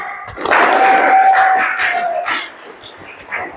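A class claps hands together in a classroom lesson, a loud burst of dense clapping that swells quickly, holds for nearly two seconds, then fades into a quieter room.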